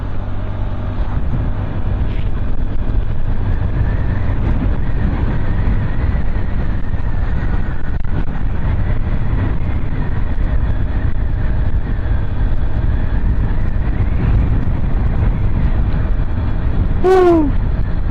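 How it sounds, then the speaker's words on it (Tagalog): Strong gusting wind buffets the microphone outdoors near a grotto in Bamban, Tarlac, a steady loud rushing roar lasting throughout, with a brief whoop near the end. "Malakas yung hangin, mahampas-hampas."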